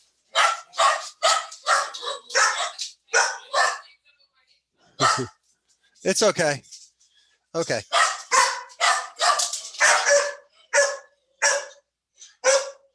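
Several dogs bark loudly at a mailman at the door, sharp repeated bursts in quick volleys with short gaps, close by, while a person speaks soothingly between them.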